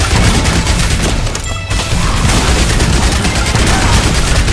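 Rapid SMG gunfire in the zombie survival game Yet Another Zombie Survivors, a loud, continuous burst with a short dip in the middle, layered over dense game effects.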